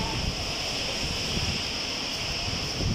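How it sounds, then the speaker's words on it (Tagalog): Steady wind roars across an open microphone during a storm signal, a constant broadband rush with low gusty rumbling, loud and unbroken throughout. "Mahangin lang."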